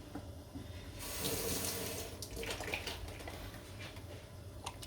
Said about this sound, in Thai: แล้วเราก็จะใส่น้ำนิดนึงรู้สึกมันข้นไป ใส่น้ำล้างกระดูก